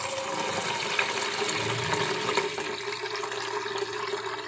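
Small penja fish are washed in water and moved between containers, with continuous close splashing and sloshing of water throughout.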